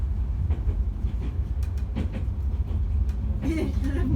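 Steady low rumble of a passenger train rolling along the rails in Bulgaria, with faint rhythmic clicks and a brief hiss near the end.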